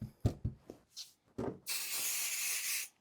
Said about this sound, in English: Just be a little careful with your spraying so you don't get it everywhere.